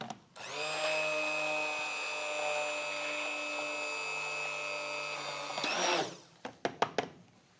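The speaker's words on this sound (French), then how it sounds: "À l'aide d'un mixeur plongeant, parfaire cette émulsion." An immersion blender whirs steadily in chocolate mousse emulsion, a loud continuous motor whine that holds for several seconds, then cuts off and gives way to a few sharp clicks and knocks.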